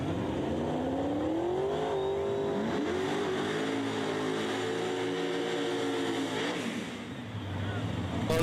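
Drag race cars launch side by side, one on nitrous and one turbocharged, their engines roaring loud and close with rising, sweeping pitch as they accelerate, while an announcer talks over the din.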